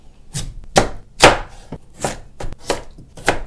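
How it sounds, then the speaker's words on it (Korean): A knife chops radish into large chunks on a board for squid soup, about seven sharp, separate thuds at an uneven pace, close and clear with no talk. "무도 큼직큼직하게 그냥 썰어서 넣어줄게요"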